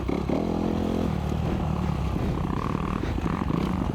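Honda CRF250RX dirt bike fitted with a Cylinder Works big bore kit, its engine revving high and loud in a steady, continuous drone with shifting pitch, close by and alone.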